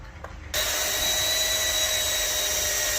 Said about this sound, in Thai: หนังมีความทนทานนะครับผมเจาะยากหน่อยนะครับผมตัวนี้